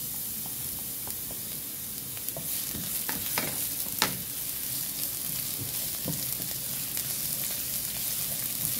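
Garlic frying in hot olive oil in a pan gives a steady, soft sizzle, with a few sharper crackles and pops scattered throughout and no voices.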